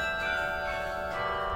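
Carillon bells ring out from a university tower, a steady sustained wash of overlapping bell tones with long ringing decay, fairly loud and continuous with no voices.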